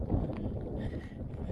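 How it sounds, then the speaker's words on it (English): Strong wind buffets the microphone outdoors at Walberswick, Suffolk, on a wet day, a constant low roaring rumble with gusty swells throughout. "sorry about the wind, folks. So we're getting absolutely battered here in the weather."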